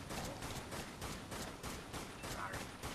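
Sustained rapid gunfire from the zombie shooter game Dead Nation, dense overlapping shots crackling steadily throughout without a break, loud and continuous with no talk.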